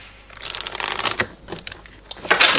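Tarot cards riffled and shuffled by hand, a dry crisp flutter of papery slaps lasting a couple of seconds, close and fairly quiet with no talk.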